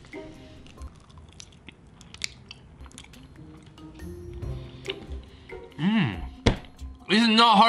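Raw honeycomb with chewy wax is bitten and chewed close up, giving soft sticky crunches and smacking mouth sounds under quiet speech, followed by louder voices and noise near the end.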